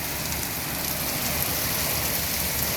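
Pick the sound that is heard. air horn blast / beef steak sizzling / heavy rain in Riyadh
heavy rain in Riyadh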